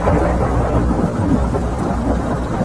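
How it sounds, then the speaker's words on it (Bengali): Heavy rain pours down outside without pause, a dense, loud, unbroken roar with a low rumbling undertone throughout. "বাইরে তখনও এক নাগাড়ে বৃষ্টি হয়েই চলেছে।"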